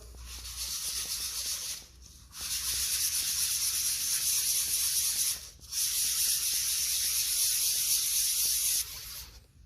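A DIY ring rubbed on sandpaper by hand gives a close, hissy scraping in three long sustained bursts separated by short pauses, fairly quiet overall.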